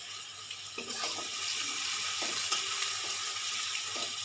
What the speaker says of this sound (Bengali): পেঁয়াজটা আমার লাল লাল করে এই যে ভাজা হয়ে গেছে